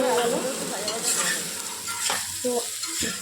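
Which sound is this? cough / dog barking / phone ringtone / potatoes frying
potatoes frying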